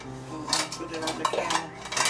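Ceramic plates clink and a metal spoon scrapes against them while being handled in a home kitchen during bread pudding preparation, several sharp close knocks and rattles spread across a couple of seconds.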